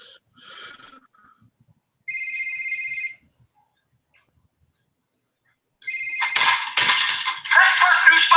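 A cell phone rings with a short electronic tone lasting about a second amid quiet, then harsher rustling noise follows.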